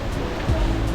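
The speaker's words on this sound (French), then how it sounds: "Du coup là, les cascades d'Azul," Rushing water at the Agua Azul waterfalls in Mexico, a dense, steady roar of cascading water heard close by in a brief continuous burst.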